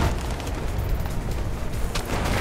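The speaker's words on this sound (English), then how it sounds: "I can hear gunshots" Muffled booms and scattered gunfire in Mirror's Edge crackle through a dense, rumbling battle din, loud and continuous with sharp bursts rising out of it.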